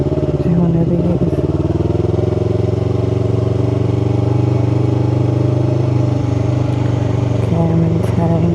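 A Yamaha R3 sport motorcycle engine drones steadily while being ridden by a learner, a loud close hum with slight shifts in pitch, a few clicks near the start and a brief rise near the end.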